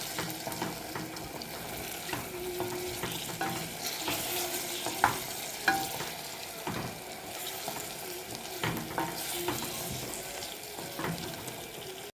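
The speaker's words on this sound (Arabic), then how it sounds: "بعد ما شوحت اللحمه نزلت بالباميه على طول" Meat sautéing with okra in a pot, stirred with a spoon: a steady soft sizzle broken by repeated scraping and clinking knocks against the pan.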